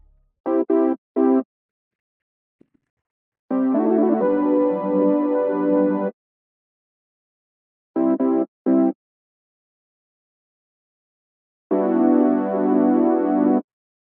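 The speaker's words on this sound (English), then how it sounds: "These chords, I'm using Diva, and I'm using the HS Butterscotch preset." Synth chords from the Diva software synthesizer using the HS Butterscotch preset, played as short staccato stabs alternating with longer sustained chords separated by silence, clean and prominent with no talking.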